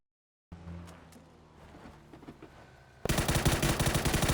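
Gunfire in a video game starts after quiet background game noise, becoming a loud, dense, rapid burst of shots that continues to the end of the clip.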